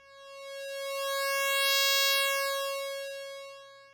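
A synth voice from a Max/MSP-style patch called Mosca, its pulse width swept by X and Y coordinates from a GUI, gives a steady buzzy harmonic tone that swells and fades smoothly over four seconds, alone with no talk.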